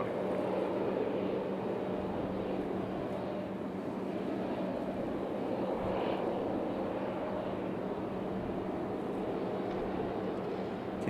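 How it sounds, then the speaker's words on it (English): JetBlue and United jets departing Raleigh Durham airport make a steady, distant engine roar and rumble, faint and even throughout with no voices. "Have a little race up the hill between JetBlue and United here."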